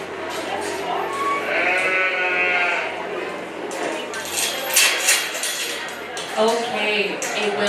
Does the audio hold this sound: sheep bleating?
yes